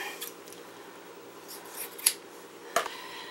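Scissors snip through hair during a home haircut, giving a few sharp, close cuts spread over quiet room tone, with two distinct clips standing out near the end and no talking.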